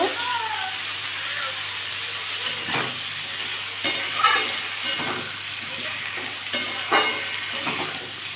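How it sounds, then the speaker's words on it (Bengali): Potatoes, mango and onion fry with salt in a pan, giving a steady sizzle broken by occasional spatula clanks and stirring scrapes. The sound is close and fairly loud. "দিয়ে ভালো করে ভেজে দেবো"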